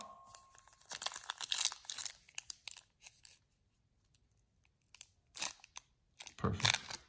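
A 2002 Yu-Gi-Oh! Legend of Blue Eyes booster pack torn open by hand, with several bursts of crisp foil ripping and crinkling separated by brief pauses, close and fairly quiet.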